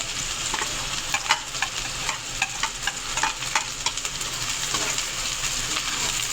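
Finely chopped onions fry and brown in hot oil in a pan for restaurant-style chicken palak. The steady sizzle is broken by repeated scraping clicks as a spoon or spatula stirs them.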